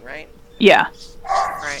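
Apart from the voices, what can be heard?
dog barking downstairs in the house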